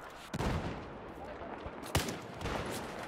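Sniper rifle gunfire in Battlefield 4 multiplayer on PS4, a few sharp cracking shots ringing out over dense battlefield noise, with faint talk underneath.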